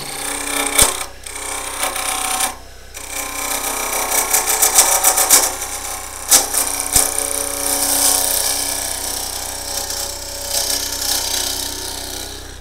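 A wood lathe turns a cherry burl bowl at about 920 RPM, with a continuous whirring hum and scraping tool cuts, and sharp knocks and bursts scattered through the loud, close sound.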